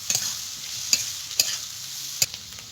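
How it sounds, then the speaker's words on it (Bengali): Grated ginger and chopped green chillies fry in a pan with a soft, constant sizzle, broken by four sharp spatula knocks against the metal at irregular intervals. "এবার দিয়ে দেবো গ্রেট করে রাখা আদা, কুচানো কাঁচা লঙ্কা।"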